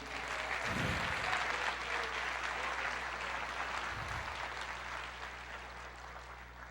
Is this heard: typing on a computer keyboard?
no